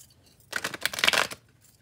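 Tarot cards riffle-shuffled by hand, one brief burst of papery flutter and slaps lasting under a second, close and fairly soft in a quiet room.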